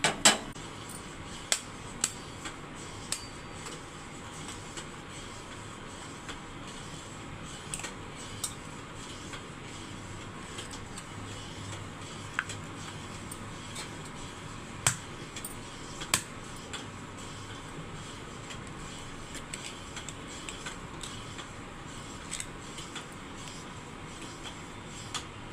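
Two eggs beaten in a bowl with a utensil for an oats omelette, giving a steady run of light ticking clinks against the bowl, with a few sharper taps, in a quiet home kitchen with no talking.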